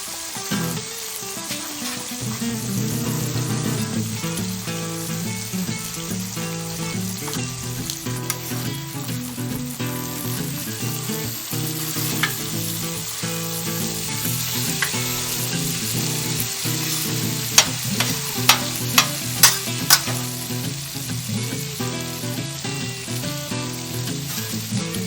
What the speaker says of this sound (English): Now let's toast our buns really quickly.